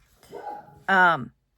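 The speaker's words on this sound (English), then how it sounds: "I apologize for the barking dog in the background." A dog in the background of a home sewing space gives a rising, whiny yelp followed immediately by a louder, sharper bark, two close vocal bursts in under a second and a half.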